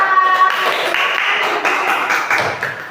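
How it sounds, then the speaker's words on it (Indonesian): Classroom clapping for a student presentation group, a steady patter of many hands filling the room at close range for a few seconds before tapering off. "kita tepuk tangan untuk kelompok 2"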